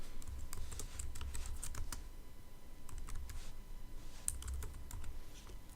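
A search phrase being typed on a computer keyboard: a quiet, close run of quick key clicks in uneven bursts, with no talking.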